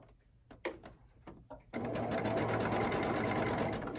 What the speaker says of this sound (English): I use a little leader in my sewing machine first, so that I can give it a little bit of a tug